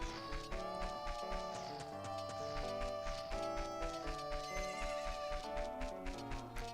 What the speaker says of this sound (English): the way horses run is different.